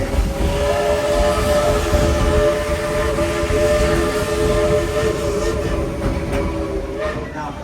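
Dollywood steam train pulling out of the depot on a rainy day, a sustained steam whistle and rumbling rail noise, loud and steady, with people talking and crowd noise around it.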